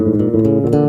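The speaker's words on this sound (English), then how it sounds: "because the nature of the delay is that if you make them sustained, it'll sound like this" Sustained bass guitar notes run through a delay pedal, the repeats smearing into a dense, continuous low drone with no clear gaps, loud and alone for under a second.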